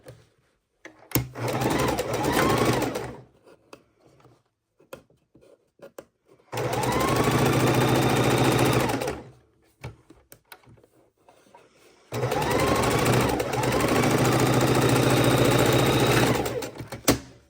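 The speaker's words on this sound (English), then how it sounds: "And sew it straight." A sewing machine stitches quilt fabric blocks together in three long, steady runs, each lasting a few seconds, with short quiet pauses and light handling noises between them.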